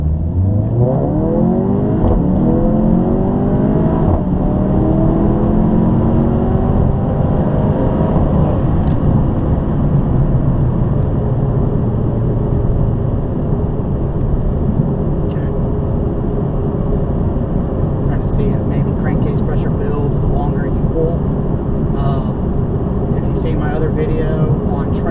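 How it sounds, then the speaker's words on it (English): A Volkswagen MK7 pulls hard through first, second and third gear, its engine note climbing repeatedly in steady, loud sweeps heard from inside the car, with the drone of road and cabin noise running underneath. "Do a quick first, second, third gear pull."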